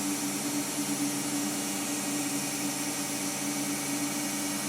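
A 1/2 inch Ashley Iles all-rounder gouge cuts shavings from wood spinning on a lathe, giving a steady, close hiss with a constant motor hum underneath, even and unbroken throughout.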